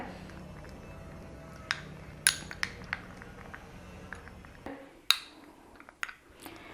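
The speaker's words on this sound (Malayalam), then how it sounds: "ഇതെല്ലാം കൂടി നമുക്ക് നന്നായിട്ടൊന്ന് മിക്സ് ചെയ്യാം" A spoon scrapes and clinks against a bowl as honey facial scrub ingredients are stirred together, with sparse light taps and chinks at irregular intervals over a quiet room background.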